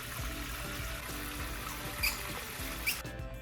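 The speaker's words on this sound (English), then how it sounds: "It's a surprisingly strong amount of current" Strong current of water flowing through a river-style aquarium tank with stream fish, a steady trickling, rushing wash heard close and continuous, with a couple of brief bright splashes near the end.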